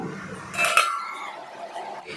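A metal lid clanks onto a pot of sardine fish curry with a bright ringing clink, then settles into quiet background hiss.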